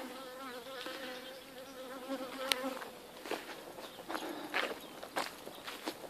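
Honey bees hum and buzz around a row of seven beehives at an outdoor apiary, with individual bees passing close by over a steady background drone.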